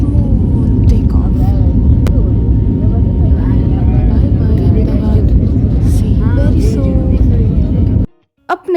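A passenger airplane takes off from Ahmedabad with a loud, steady engine roar heard from inside the cabin. The roar holds for about eight seconds, then drops out abruptly, and voices talk faintly over it.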